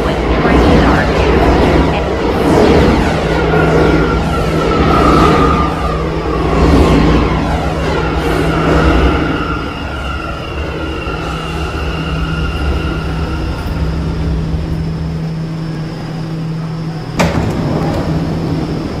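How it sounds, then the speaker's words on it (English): A New York City subway C local train arrives in a Roblox game station, its steady rumble and rail noise rolling along with a sustained low hum and faint announcements over the top, then briefly cutting out near the end. "This is a Brooklyn-bound C local train"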